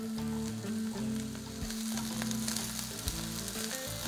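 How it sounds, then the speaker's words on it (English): Broccoli is sautéed quickly in a hot pan alongside a ginger garlic sticky sauce, making a continuous bright sizzle that runs under steady background music. "So we're just going to quickly give it a saute"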